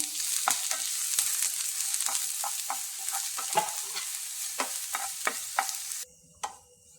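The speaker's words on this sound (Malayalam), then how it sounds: "അതിലേക്ക് ഒരു സവാള അരിഞ്ഞെടുത്ത് ഒന്ന് വഴറ്റിയെടുക്കാം" Sliced onion sautéing in coconut oil in a pan, a close, steady sizzle broken by frequent scraping spoon strokes, with no talking, and the sound cutting off abruptly near the end.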